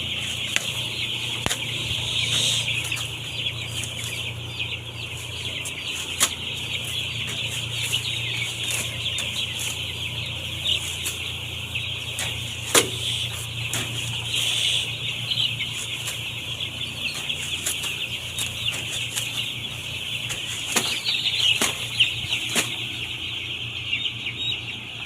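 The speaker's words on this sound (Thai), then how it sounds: "ไก่รุ่นนี้จะเล่นยากนิดหน่อยเพราะอากาศเย็น" Young chickens in cold weather cluck and flap their wings, scattered clucks and wing bursts over a steady high buzzing background, continuous for about twenty-five seconds with no talk.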